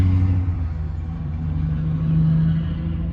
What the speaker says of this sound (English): Holy crap, that's a loud truck.